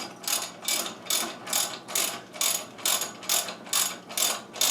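Ratchet wrench bolting a shock onto a 1980 Suzuki FZ50, about ten loud, close, evenly spaced clicking ratchet strokes in a steady rhythm.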